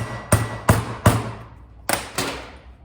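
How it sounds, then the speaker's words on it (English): A rubber mallet strikes a socket placed over the shaft to seat an automotive Sanden A/C compressor clutch: five sharp, close thumps, three in quick succession, a pause, then two more. "a rubber mallet"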